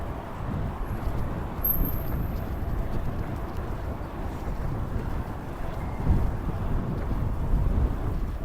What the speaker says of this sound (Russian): неприятный ветер нам мешает